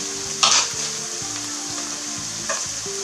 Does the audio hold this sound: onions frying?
yes